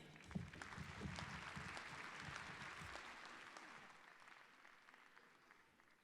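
Audience applause fills a Fall 2018 UWM commencement ceremony, a dense, steady wash of many hands clapping that gradually thins and fades toward the end.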